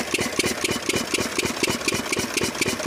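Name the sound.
engine of irrigation pump running on LPG cylinder gas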